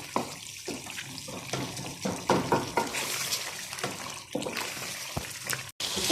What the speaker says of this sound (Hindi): अब टमाटरों को हम अच्छे से मैश कर लेंगे।